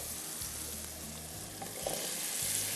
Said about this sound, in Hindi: अब मैं इसमें आलू डालूंगी, और आलू डाल के हम इसको भूनेंगे